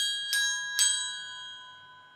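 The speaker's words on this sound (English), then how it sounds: "I don't suppose there's much that can go wrong with a triangle" A metal triangle is struck twice in quick succession, each hit ringing out with bright, sustained overtones that slowly fade away, close and clear with no talking.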